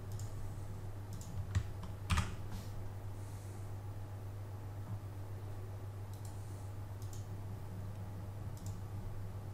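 Quiet typing on a computer keyboard, scattered key clicks with a few louder taps early on, over a steady low hum.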